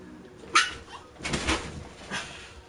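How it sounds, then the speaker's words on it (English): A small dog whimpers after being accidentally stepped on, a few faint, brief yelps and whines spread out over a couple of seconds in a quiet room. "I just stepped on my dog, which is this size."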